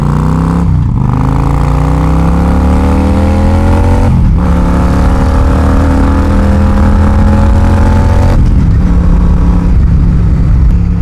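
A heavy cruiser motorcycle engine, with rider aboard around 800 pounds, accelerates hard in first gear: a loud, close, continuous rumble with rising pitch, briefly dipping between pulls before climbing again.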